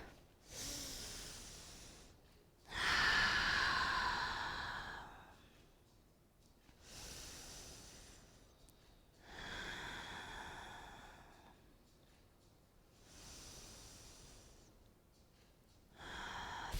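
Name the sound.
three deep breaths during yoga forward fold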